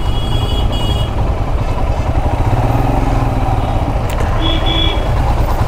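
A Royal Enfield motorcycle stuck in a road traffic jam, with a steady, loud rumble of idling engines and surrounding vehicles that continues throughout, and brief horn-like tones near the end.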